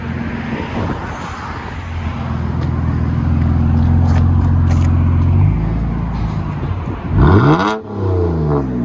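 A 2011 BMW 328i with a 3.0L inline-six on straight pipes idles with a deep steady rumble, then gets a brief rising rev as it backs out, loud and close.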